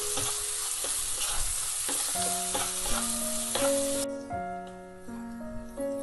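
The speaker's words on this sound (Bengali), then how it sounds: "দিয়ে দিলাম পেঁয়াজটাকে তেলের সাথে ভেজে নিচ্ছি মোটামুটি 2 মিনিট মতো সময় ধরে।" Chopped onions sizzle steadily in hot oil in a pan for a Bengali dish, with a constant close frying hiss, occasional stirring scrapes and a faint tonal hum from a background appliance.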